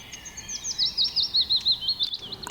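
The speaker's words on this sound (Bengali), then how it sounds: "পাখির কিচিরমিচির আওয়াজে মনটা অনেকটা হালকা লাগছে" In an animated cartoon forest, a bird chirps a rapid series of high, repeating tweets at an even rhythm, fairly clear over a quiet background.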